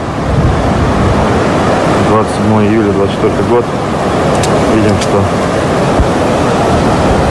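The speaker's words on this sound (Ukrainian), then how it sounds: "вода идет через дорожное полотно" Floodwater rushes across a washed-out road near Yuzhnouralsk in a steady, loud wash with wind buffeting, while someone talks over it.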